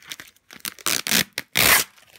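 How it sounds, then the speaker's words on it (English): Sellotape being peeled off a ceramic tile made from mudlarked pottery, heard as several short ripping strips followed by two longer, loud tearing pulls, close up with no talking. "there's all the sellotape on this, which we need to peel off"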